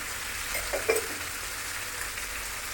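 Potatoes and tomato with salt frying in a pan, a steady close sizzle with a brief scrape of stirring partway through, no voices.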